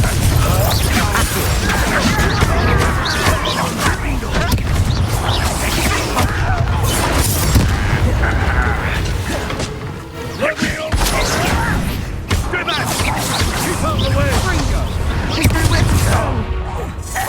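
Confringo and Bombarda spell blasts in Hogwarts Legacy combat: loud, dense crashes, booms and thuds in rapid succession, continuous throughout, with shouted voices mixed in.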